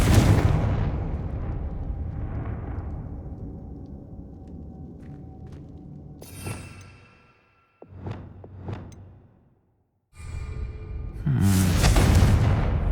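A Confringo spell explosion in the Hogwarts Legacy video game bursts with a loud rumbling blast that decays over several seconds, followed by sharper crackling impacts and another heavy roar, with no talk.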